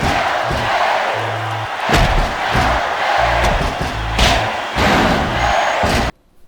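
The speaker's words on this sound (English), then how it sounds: "if you listen, it was bad crowd chants." Crowd chanting in a WWE wrestling video game, loud rhythmic bursts of massed voices with heavy thumps and slams between them, cutting off abruptly at the end.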